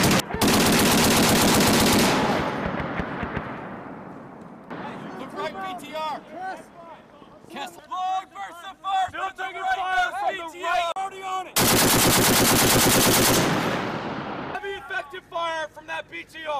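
Marine Corps officers fire machine guns in loud, sustained bursts, with several long roaring volleys broken by gaps. Shouted voices and talk come through between the bursts.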